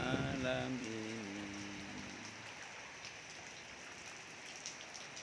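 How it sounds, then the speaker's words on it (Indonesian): Rain falls steadily on a school yard as a soft, even hiss of drops that continues throughout, with a voice singing over the first two seconds. "hujan turun di halaman sekolah"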